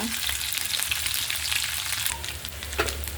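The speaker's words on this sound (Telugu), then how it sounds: "నెత్తలు కూడా వేగిపోయి తీసేస్తానండి" Small dried fish fry in hot oil for an egg curry, giving a steady, close, crackling sizzle with occasional stirring clinks.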